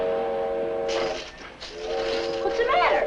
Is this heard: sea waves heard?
no